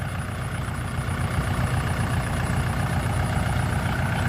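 A farm tractor engine runs while stuck in a muddy rice field, a steady loud low droning rumble with a constant high whine riding over it and no talking.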